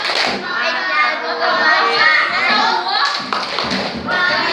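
Children chant together in unison while clapping in rhythm during an Indonesian classroom clapping game about ASEAN member countries, the voices loud and close with steady claps between phrases.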